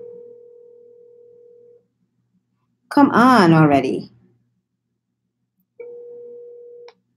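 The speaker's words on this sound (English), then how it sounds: "answer the goddamn phone" A telephone call rings unanswered, with a long steady ringback tone, then a short spoken remark, then another ringback tone, all heard clearly through the line.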